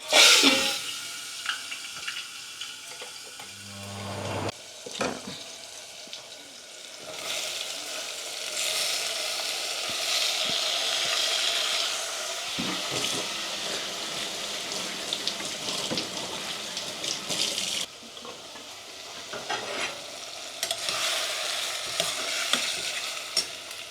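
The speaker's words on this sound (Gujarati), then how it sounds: "તો આપણે ગેસ ધીમો કરી અને ટમેટા નાખી દઈએ" Tomatoes frying on low heat in a pan for a whole-cashew paneer curry, a steady broadband sizzle with stirring scrapes, briefly interrupted near the start, running throughout with no talk.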